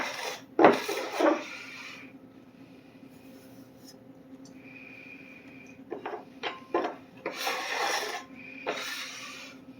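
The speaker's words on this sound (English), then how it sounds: "Then I'm going to scrape everything left on the table." Leftover pie crust dough is scraped off a table in several rough, rasping strokes, close and moderately loud, with pauses of quieter handling between them.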